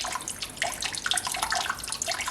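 Water spills from the waterfall outlet of an aquascape aquarium in a soft, steady trickle and splash, quiet and close, with bright bubbling texture and no voices.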